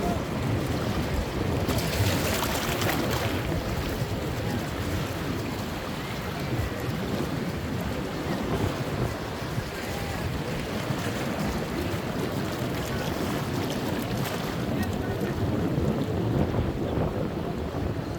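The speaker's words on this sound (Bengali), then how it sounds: "পানি দেখো কত দ্রুত করে চলে আসে।" Sea water rushes up the sand at Patuartek beach in a continuous broad wash of surf, with strong wind buffeting the microphone throughout.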